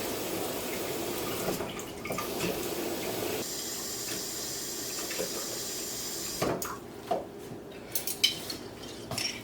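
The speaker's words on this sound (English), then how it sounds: "And it's just hot tap water." Hot tap water runs steadily into a kitchen sink or bowl, a continuous hiss broken near the end by clinks of dishes and utensils.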